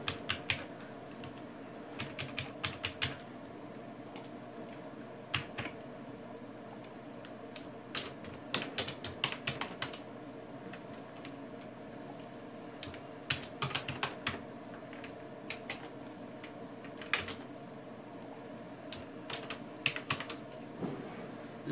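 Someone types on a computer keyboard while filling in form fields for key generation in an Android REST web service project. The keystrokes come in irregular bursts of close, crisp clicks with short pauses between them.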